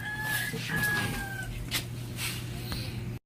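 A chicken clucks and gives a brief crow-like call near a boat on the shore, moderately close over a low steady hum, with voices faintly underneath.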